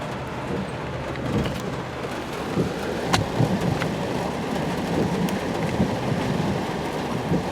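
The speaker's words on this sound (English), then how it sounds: "We're also sitting here and we're in the middle of a thunderstorm. Thunder and lightning." A thunderstorm surrounds a parked cargo van, with steady heavy rain drumming on it and low thunder rumbling through the wash, and no one speaking.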